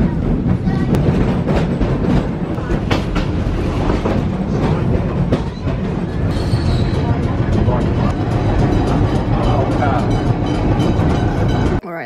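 Tram ride in Australia, heard from inside the car: a loud, steady rumble of wheels on rails with rhythmic clickety-clack and occasional brief squeals, continuous throughout.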